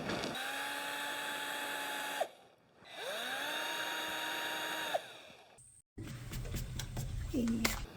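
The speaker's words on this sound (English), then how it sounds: "you just have to drill these little holes where the screws are" A cordless drill bores small pilot holes for hinge screws in wooden side pieces of a hallway closet shoe storage unit: two whining bursts of about two seconds each that spin down, then quieter handling noise.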